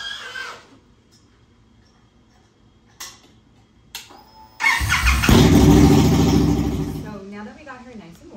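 An Indian Scout motorcycle engine starts after a few clicks and a brief silence, then revs loudly and steadily for about two seconds before dropping back, with faint rustling at the start.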